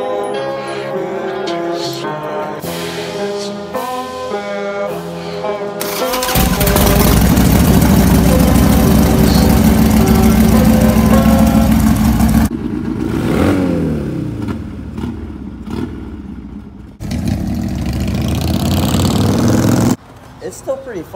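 A Harley-Davidson motorcycle engine roars loudly and revs hard after a stretch of music. The engine noise dips and surges outdoors while voices are heard around it.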